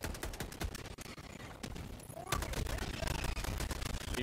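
Rapid gunfire from the video game Helldivers 2, including a Gatling weapon, crackles in dense, loud bursts throughout with a heavier blast partway through, and voices talk faintly underneath.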